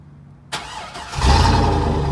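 A classic American V8 engine cranks briefly and fires up quickly, settling into a loud, close, rumbling idle.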